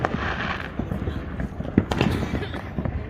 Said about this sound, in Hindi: इतना शोर धमाका है